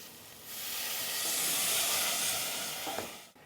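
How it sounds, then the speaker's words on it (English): Fish stock poured into a hot pan for a snapper Creole sauce, giving a steady, loud hissing sizzle that swells and holds for a few seconds before easing off. "we're going to add the fish stock"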